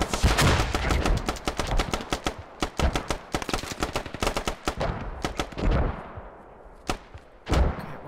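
Enemy gunfire in Squad rattles loud and close in rapid machine-gun bursts, thinning into scattered single shots and a few heavy thuds, with no voices.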